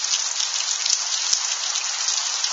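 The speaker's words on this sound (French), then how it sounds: "Mais c'est impossible, cette pluie." Heavy rain pours down during a strong multicell thunderstorm in Tour-en-Sologne, France, making a dense, steady, loud hiss of drops hitting surfaces, with no thunder or voices.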